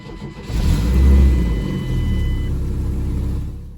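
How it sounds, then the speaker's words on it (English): A failing 1996 GMC Sonoma pickup engine starts with a brief crank, then settles into a steady, loud, close-up run with a low rumble, without any voices. "The engine does actually run"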